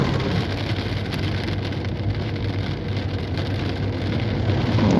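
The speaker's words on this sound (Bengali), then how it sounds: "আপনারা বৃষ্টির শব্দ নিশ্চয়ই শুনতে পাচ্ছেন" Heavy rain drums on a car at night on the Mawa Expressway, a dense, steady roar of rain on the vehicle over the low hum of the engine and road, continuous for the whole stretch with no talking.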